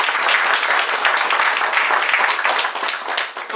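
Loud, sustained applause from an audience at a marketing and township plan program in Agartala, Tripura, a dense wash of clapping that holds steady for a few seconds before thinning slightly at the end.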